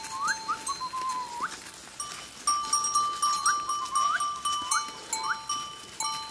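Goats and sheep bleat repeatedly along a forest path, a steady run of wavering calls from several animals, fairly close and clear, with faint clinking that may be bells in the flock and no talk.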